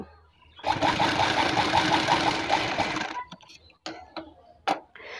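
A sewing machine stitches a hook strip on a blouse in one continuous, rapidly ticking run lasting about two and a half seconds. Faint handling clicks and quiet movement follow it.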